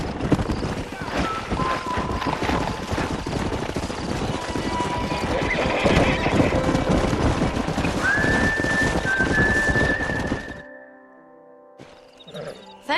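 A horse in Red Dead Redemption lets out a whinny amid clip-clopping hooves, game ambience and a thin whistle-like tone, followed by a quieter stretch near the end.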